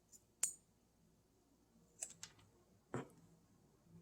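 A small engine fuel line is cut at an angle, with a few sharp isolated snips and clicks spaced out over a quiet background, close but soft.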